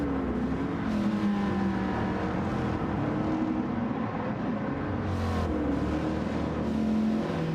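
Race car engine in Gran Turismo 7, a steady loud drone with harmonic pitch sweeping up and down as the car accelerates and shifts, heard alone without talk.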